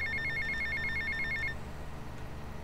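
Phone ringing in GTA: Vice City, a rapid electronic trill repeating in quick pulses for about a second and a half before cutting off, over a low game background rumble.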